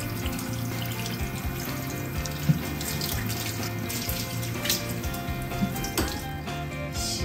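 Warm water pours steadily from a tap into a sink for a ferret's bath, a continuous close splashing stream with small irregular spatters and no voices.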